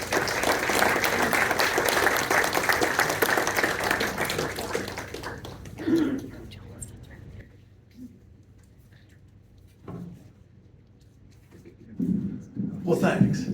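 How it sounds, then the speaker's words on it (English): Audience applause for TV personality Jack Doles, loud and dense at first, then fading into scattered claps and near silence before a brief swell near the end. "Let's give him a good applause."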